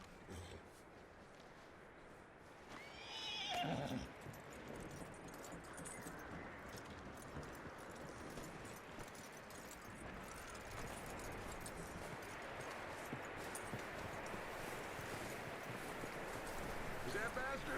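Hooves clip-clopping from a horse in Red Dead Redemption 2, a brief louder burst near the start, then steady hoofbeats under ambient game sound with speech mixed in.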